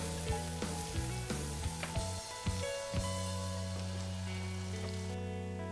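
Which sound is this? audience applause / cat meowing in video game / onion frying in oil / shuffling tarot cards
onion frying in oil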